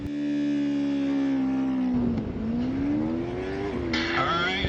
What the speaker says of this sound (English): Alright, and they're off, and Sofia Amadio got a good start